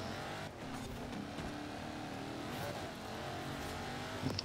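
A car engine roars steadily through an off-road rally event in the racing game Forza Horizon 4, a continuous loud drone with small surges and a brief squeal-like flare near the end, no talk.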